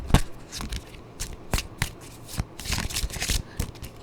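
Tarot cards are riffled and shuffled by hand in a dense, papery flutter of quick overlapping snaps, close and steady for several seconds before one card is pulled.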